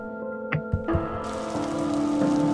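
Steady rain from the Block Story video game hisses in the background at night, growing denser partway through, with a few soft taps and a low tonal hum beneath it.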